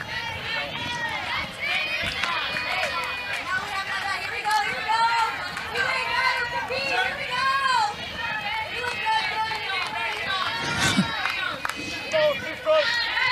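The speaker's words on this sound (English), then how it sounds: "You're constantly hearing CBU, just catching them in the mics, just constantly cheering, a lot of chatter." CBU women's softball players in the dugout keep up constant cheering and overlapping chatter during a college game against UCLA, a busy, lively stream of voices and shouts heard from the field mics.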